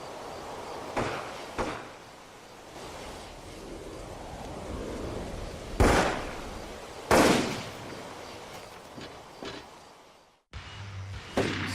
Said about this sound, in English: Somebody's shooting.